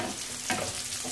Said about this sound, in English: You're going to add the onion once the oil is okay.